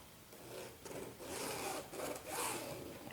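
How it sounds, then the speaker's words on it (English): A pen or marker drawn across denim, giving a soft continuous scratchy rub in a few strokes, close and quiet with no talk. "Now I need to draw a line for my double-sided tape."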